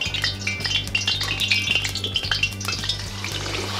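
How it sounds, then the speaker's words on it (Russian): Carp drops into hot oil for deep-frying, giving a loud, steady crackling sizzle with bursts of spattering and a few clinks of a utensil against the pan. "Масло накалилось у нас. Добавляем нашего сазанчика."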